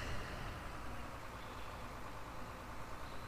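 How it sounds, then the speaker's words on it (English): Tractor engine idling in Farming Simulator 2013, a low steady diesel rumble, faint and even, with no speech over it. "Got a nice tractor."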